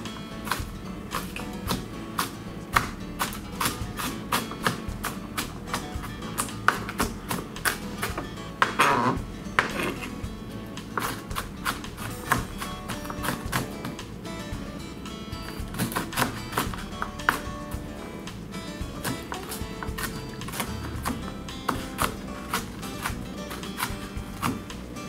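A knife chops an onion in a home kitchen, a dense run of quick, sharp taps against a cutting board, steady and close, over a low continuous background hum.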